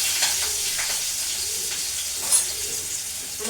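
Onion sautéing in a pan for a fenugreek leaf (methi) bhaji gives a steady, moderate sizzle with light stirring, while pigeons coo faintly in the background.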